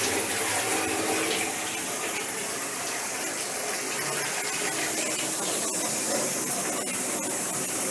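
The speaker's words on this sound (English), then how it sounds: "That's the pump there, bringing in the water" The pump of an MLT830 utensil tunnel tote washer draws water into the machine, giving a dense, constant rushing and spraying wash of sound that stays loud and steady throughout.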